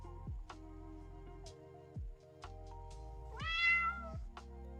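A cat meows once in a rising, drawn-out cry during a modded game stream, set against a quiet backdrop of repeating synthetic tones and soft ticks.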